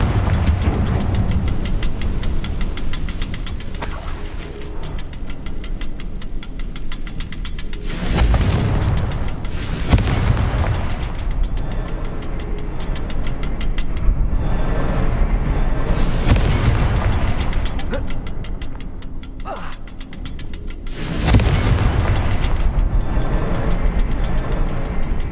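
Repeated Confringo blasting-spell explosions in the Hogwarts Legacy video game, several loud booming bursts at irregular intervals over a continuous rumbling game soundscape, with no talking.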